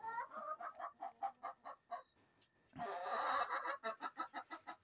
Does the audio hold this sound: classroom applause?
no